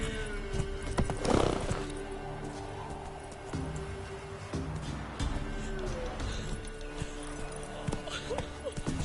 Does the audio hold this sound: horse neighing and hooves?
yes